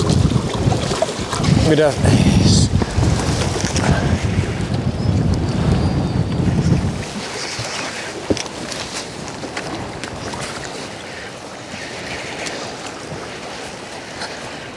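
A fishing boat motor drones steadily amid heavy wind buffeting, loud at first and then easing to a quieter hum, with a person speaking briefly early on.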